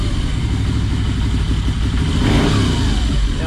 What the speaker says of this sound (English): And the sound on idle is, and if I twist the throttle